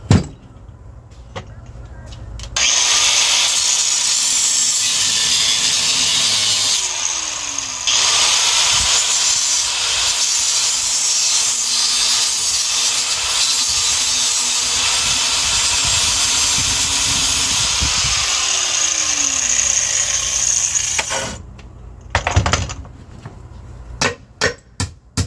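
Angle grinder cutting during disassembly of an antique engine from an old tiller: a loud, steady high-pitched whine and hiss that runs for most of the clip, briefly dipping, then stopping, with clanks at the end.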